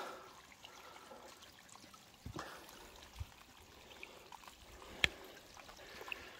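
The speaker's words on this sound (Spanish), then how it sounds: "Baja la cascada de agua." Mountain water cascade from a hose-fed spring near a goat pasture, a steady soft trickle and stream that runs continuously at moderate distance, with a couple of brief knocks and no talk.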